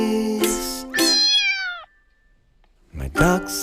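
A cat gives two clear meows in close succession, loud and near, with a drawn-out falling second call, followed by a pause and then another meow.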